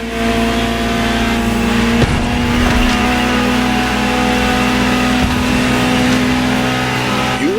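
Ferrari 250 GTO engine in The Crew Motorfest, a loud, close, steady drone with a strong held tone and brief shifts in pitch, running alone without voices.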